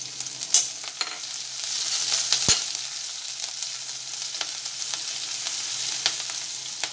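Chopped green chili and grated ginger fry in a pan with a steady, gentle sizzle, broken by a few faint clinks and scrapes of stirring.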